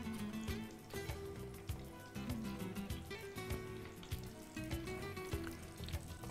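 Fish and eggplant frying in a pan of hot oil, giving a steady, dense sizzle and crackle with frequent sharp pops throughout, close and fairly loud.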